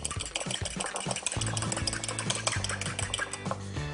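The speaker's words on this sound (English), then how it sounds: "Next, lightly whisk in 2 whole eggs." Two whole eggs are whisked into blondie batter in a bowl, a busy clatter of the whisk tapping and scraping the sides in quick repeated strokes, close and steady.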